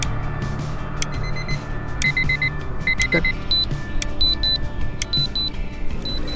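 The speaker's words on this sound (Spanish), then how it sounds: "Y después puse una alarma, como que se acabó el tiempo." An alarm sound effect signalling that time is up plays as a series of short, high electronic beeps in irregular pairs and groups over a steady low hum, fairly loud throughout.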